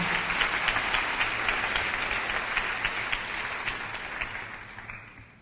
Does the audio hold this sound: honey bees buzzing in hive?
no